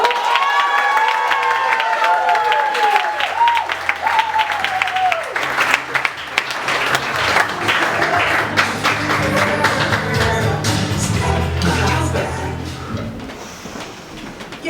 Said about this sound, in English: Round of applause for Miss Rachael